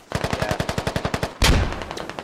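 Suppressive automatic fire in the tactical shooter Squad: a steady burst of about a dozen evenly spaced, loud shots, followed by a heavier blast-like roar that fades.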